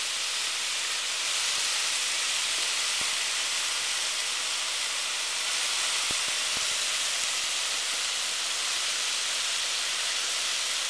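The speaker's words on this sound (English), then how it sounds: "You want to constantly hear that sizzle." Chicken sizzles in a hot pan while being cooked for Thai tamarind soy chicken. A continuous, even frying hiss runs close and steady throughout, with no voices.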